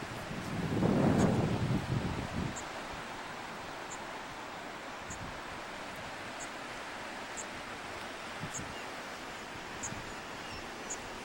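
Steady wind blows outdoors near Denali Lodge in Alaska, a broad rushing noise that buffets the microphone, with a louder gust in the first two seconds and faint brief ticks above.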